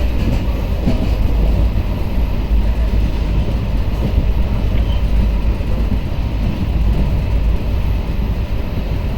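The Hundry Express passenger train rolls along steadily with a loud, continuous rumble and faint rhythmic rattling from the carriages, heard from on board. No voices.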